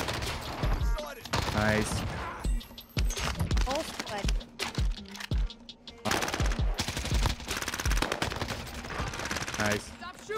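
Rapid automatic gunfire crackles in Call of Duty Warzone, repeated loud bursts over several seconds with short gaps, while players talk over the shooting.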